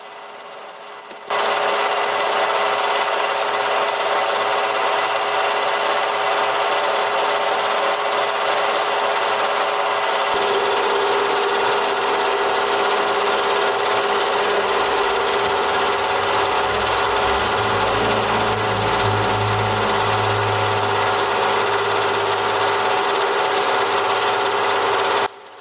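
A drill with a 31mm (1.25-inch) bit bores into an old 25mm steel plate after a 10mm pilot hole, giving a loud continuous grinding, rasping whine with a steady high tone that runs unbroken for about twenty-four seconds.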